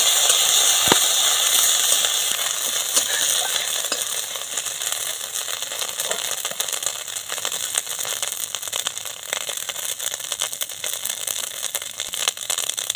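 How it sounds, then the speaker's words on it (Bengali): Green chilli paste and ginger paste frying in hot oil with black cumin seeds, a dense continuous sizzle that starts loud and settles slightly, with a few faint crackles, close and without talk. "কাঁচা লঙ্কা বাটা আদা বাটা ভালো করে এগুলো ভেজে নেব"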